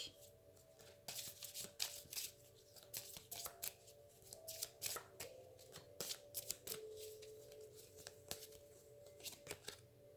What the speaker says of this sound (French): Je vais tirer une carte sur l'empereur et l'étranger.